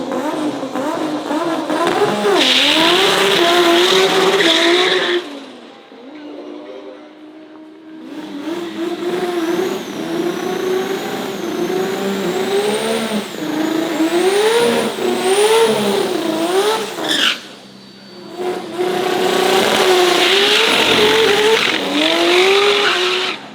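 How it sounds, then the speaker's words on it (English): Thai drag racing Isuzu D-Max race truck with a 2JZ petrol engine, loud and close, revving hard through rising gear pulls with tire squeal, a brief drop near the middle, then screaming again. "2JZ Isuzu D-Max race truck."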